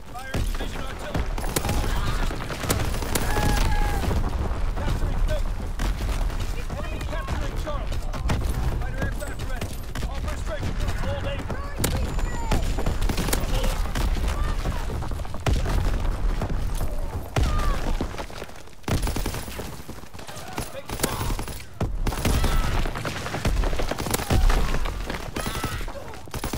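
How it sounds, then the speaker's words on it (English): Dense, continuous battlefield barrage in Call of Duty: WWII, with rolling booms and crackling gunfire sustained loudly for the whole stretch, dipping briefly near the end before surging again, with voices mixed into the din. "Fire division artillery."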